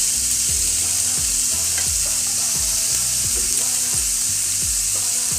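Asafoetida sizzles in hot oil in a pan for a vegetarian chowmein, a steady loud hiss with repeated scraping stir strokes roughly every second, no voices.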